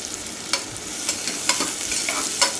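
Onions and green chillies fry in hot oil in a pressure cooker, a steady near hiss with intermittent scraping stirs of a ladle against the metal, no speech.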